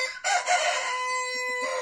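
A rooster out in the sun beside a backyard coop crows once, a loud, close cock-a-doodle-doo with a rising start and a long held tone trailing off into brief clucks.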